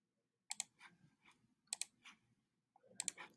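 A computer mouse clicks quietly in CAD software, in close, crisp double-click clusters with small scrolls between them and brief silent pauses, with no speech.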